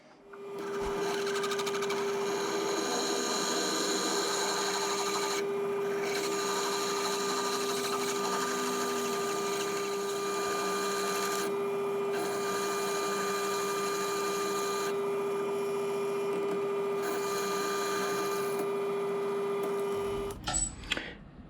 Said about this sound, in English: I'll get this drilled out, and I'm just going to bore it to a fraction over 3/4